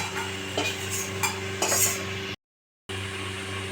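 Onion fritters fry in hot oil with a continuous close sizzle and light clinks of a utensil against the pan, cut by a short silent gap before the sizzling resumes.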